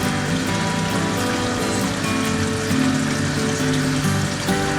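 Water rushes steadily through an aquarium sump filter feeding a multitank aquascape, a dense, continuous splashing and trickling wash that holds at an even level throughout with no voices.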